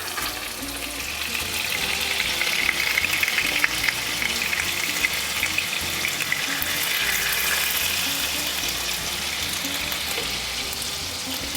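Butter melts into olive oil in a pan over lowered heat, in preparation for a pasta with broad beans. A steady, close hiss of sizzling fat fills the clip with no talking.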